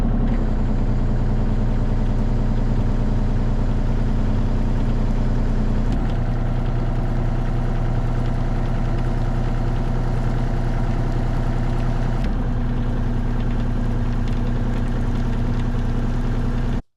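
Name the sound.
Lloyd Rotastar RS2-4 topsoil screener running, stars spinning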